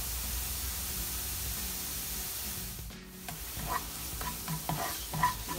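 Onions frying in a pan while cream is prepared for a creamy chicken breast dish, a steady close sizzle with some stirring and scraping, and a few sharper clinks and crackles toward the end.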